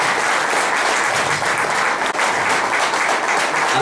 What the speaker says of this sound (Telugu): వారికి చప్పట్లతో స్వాగతం పలకాల్సిందిగా కోరుతున్నాం